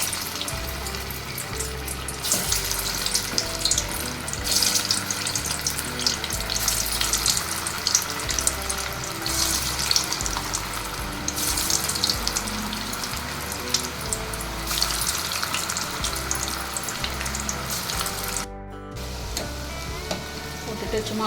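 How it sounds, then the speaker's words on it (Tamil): Dough balls deep-fry in hot oil in a kadai, giving a steady, close crackling sizzle that carries on with occasional stirring, with a voice speaking at times over it. "அது சூடு ஏறிட்டு இருக்குது, அதில் போட்டு பொரிச்சிக்கலாம்."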